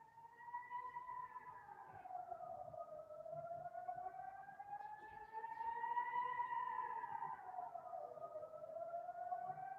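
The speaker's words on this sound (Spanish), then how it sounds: "me quedaré callado y les dejaré oír la sirena" An air raid siren wails across a city, its steady rising and falling tone sustained and fairly distant for the whole stretch, with no talking.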